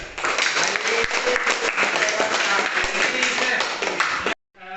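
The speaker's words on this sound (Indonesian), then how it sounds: "tepuk tangan untuk kelompok 3" A classroom of students claps for a student group during an Islamic religious education lesson, a steady dense round of applause lasting about four seconds before stopping abruptly.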